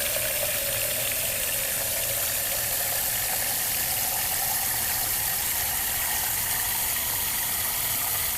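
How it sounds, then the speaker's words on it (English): Water runs steadily from a tap or hose into a planter already holding plant fertilizer, a constant hissing rush with no breaks and no voices. "I already put the fertilizer in and I am filling it up with water."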